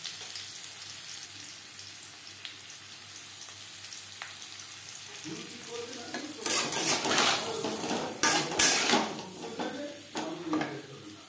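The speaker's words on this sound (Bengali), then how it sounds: "পরিমাণ মতো লবণ ও হলুদ দিয়ে আলু ভেজে নেব।" Potatoes with salt and turmeric are tipped into a pan for frying for an aloo mutton curry. After quiet background, metal clatters and scraping arrive over a rising sizzle, with sharp clanks near the end.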